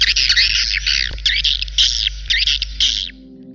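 Common swifts screaming in a colony, a dense run of shrill, rasping calls in overlapping bursts that carry on steadily and then stop abruptly, fairly loud and close, with no talk.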